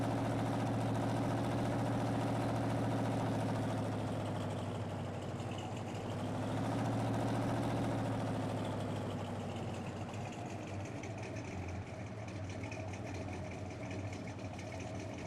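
Tractor engine in Farming Simulator 19 hauling a log fork over a rough road, a steady low idling drone with a slight rise and fall in pitch, continuous and close throughout.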